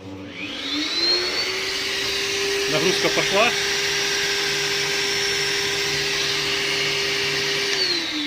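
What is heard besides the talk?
vacuum cleaner running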